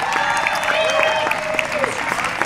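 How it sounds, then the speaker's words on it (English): Audience applause for a school jazz band at an outdoor park concert, a dense continuous patter of many hands clapping at steady volume with a few sharper claps standing out and some voices mixed in. "can we get one more round of applause for the Briscoe All City Jazz Band?"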